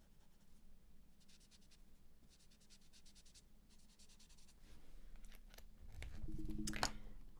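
Watercolor pencils and a blender marker scratch and rub softly across paper while coloring, with faint rhythmic strokes that build into a louder, denser rubbing near the end; no talking.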